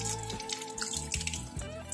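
Naturally sparkling sulfur-iron spring water flows at an abandoned spa in central Slovakia, a steady, fairly quiet trickle and splash like a running tap, with no voices.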